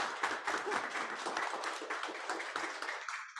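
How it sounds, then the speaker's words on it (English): People at a digital photo exhibit event applaud an artist, a small crowd's clapping with distinct individual claps that tapers off toward the end. "A round of applause for Jackie, please."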